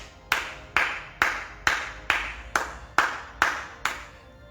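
A church congregation claps in unison during worship, ten sharp, evenly spaced rhythmic claps that each ring out briefly, with no voices.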